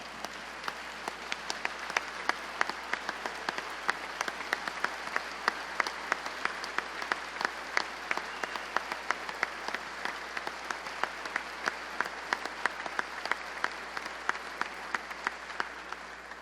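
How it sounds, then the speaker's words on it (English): A large audience at a Missouri governor's event applauds JAG students and specialists, a steady sustained round of clapping lasting many seconds, even and unbroken, with no talking over it. "Would you please join me in giving these JAG students and specialists here with us today a round of applause?"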